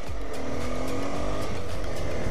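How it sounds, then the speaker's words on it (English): A car passing on a road, heard as a loud, steady engine and tire roar close by, with no voices and nothing else standing out. "must be the car back there."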